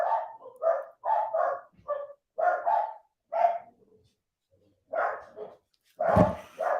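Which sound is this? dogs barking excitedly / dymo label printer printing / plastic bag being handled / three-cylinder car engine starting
dogs barking excitedly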